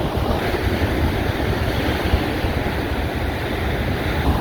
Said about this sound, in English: here's the status of the waves right now. Look at them. They're getting ferocious.